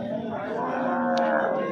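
A Friesian cow at a busy cattle market in Fatehpur lets out one long, loud, droning moo that fills the whole moment, with no talk over it.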